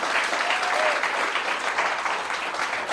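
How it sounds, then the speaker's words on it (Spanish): A church congregation claps loudly and steadily for Jesus during a service, a dense, sustained wave of applause that carries through the whole moment. "Denle un aplauso fuerte a Jesús en esta hora"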